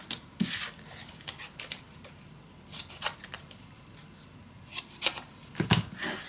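Scissors snip the corners of paper for a scrapbook folio, a series of crisp, close, irregular cuts with short pauses between them.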